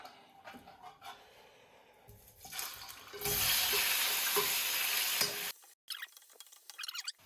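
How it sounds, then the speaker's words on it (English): Pork hits caramelized sugar in a hot wok, erupting into a loud, sustained sizzle with scraping stirs, preceded by quieter clatter and followed by a brief pause and renewed frying and stirring noises. "So as the color has changed, now we add in our pork."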